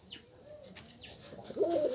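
Soft cooing from kept pigeons, a few brief calls ending in a slightly stronger coo, heard nearby against a quiet backdrop.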